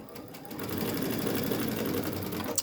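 A sewing machine stitching pieces of fabric for face masks runs in a steady, fast mechanical whir from start to finish, close and loud, with no voices.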